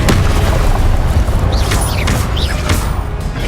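A Confringo blasting curse explodes in Hogwarts Legacy, heard as loud, heavy booms within a dense, noisy spell-combat soundscape that stays full and continuous throughout.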